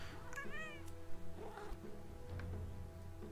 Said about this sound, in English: she is being an annoying meowy little kitten